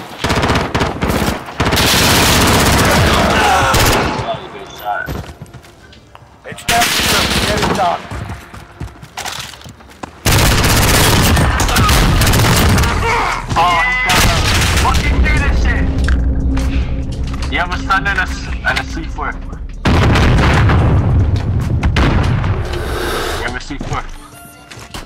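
Loud bursts of automatic gunfire and booms from a Call of Duty Modern Warfare match, coming in long rapid volleys separated by brief pauses, with a voice talking over parts of it.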